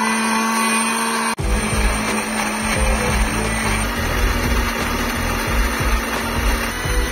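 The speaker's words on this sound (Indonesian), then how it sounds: "Lalu kita akan menghaluskannya menggunakan blender." A kitchen blender grinds garlic, shallots, salt and cooking oil into a spice paste, a loud steady whirring grind that starts abruptly and runs continuously with a choppy, churning texture.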